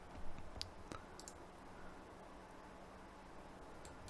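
Computer mouse clicks while editing a Fallout 4 weapon animation, a few sharp, quick taps near the start, including a double click, then quiet room tone.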